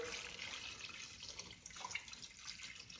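Water pours from a tap into a pot of meat on the stove, a steady faint splashing and trickling stream that runs for about three seconds with no talking.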